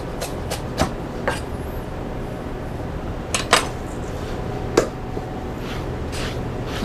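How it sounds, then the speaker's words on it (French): A knife chops dill, stems included, on a cutting board for a salmon gravlax starter in a restaurant kitchen, giving a few sparse, sharp knocks spread across a quiet background. "Hacher grossièrement."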